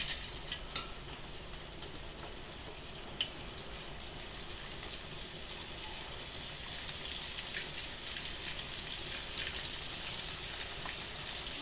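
Tilapia sizzles steadily in hot cooking oil, a dense continuous crackle and spatter that swells slightly louder partway through, with no voices.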